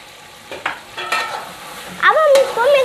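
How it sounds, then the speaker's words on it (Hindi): A spoon stirs yogurt and potatoes into chicken in a pot for Kabuli biryani, giving a few brief wet scrapes and gentle sizzling bursts, close and fairly loud, with no talking. "अब हम इसको मिक्स कर लेंगे।"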